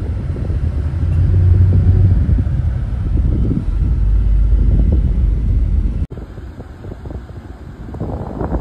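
Interior of a Shiv Rameshwar Travels bus driving through Dadar in Mumbai, a steady low engine and road rumble with wind noise, dropping briefly quieter near the end.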